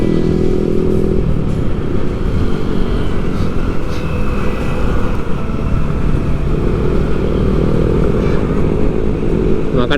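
Motorcycles travelling on the busy Pantura road in Indonesia during the holiday homeward exodus, a dense, loud, continuous engine and wind roar from riding among many bikes at around 45 km/h, with no talk.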